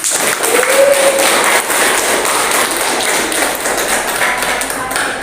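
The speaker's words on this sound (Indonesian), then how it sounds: "Oke, kita beri tepuk tangan semuanya." A class of students claps hands together in a classroom, a continuous, fairly loud patter of applause that stays even from start to finish.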